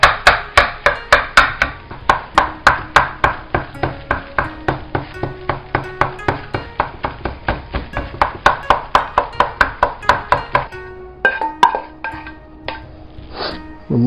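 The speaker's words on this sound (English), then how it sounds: "Just make sure your egg is chopped up as small as you can get it." A utensil rapidly chops scrambled egg into small pieces in a non-stick skillet for hibachi-style fried rice, with dozens of sharp, evenly spaced taps on the pan that end in a few scraping clinks.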